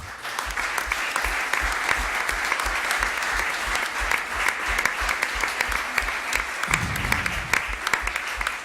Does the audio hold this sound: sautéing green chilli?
no